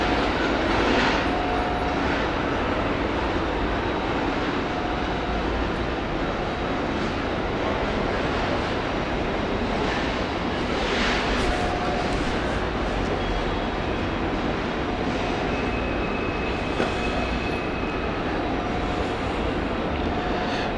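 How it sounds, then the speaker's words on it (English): Cessna Citation business jet inbound at Hamburg Airport: a continuous, fairly loud jet rumble and hiss holds steady throughout without rising or fading sharply, with no voices. "inbound next. We have a Cessna Citation."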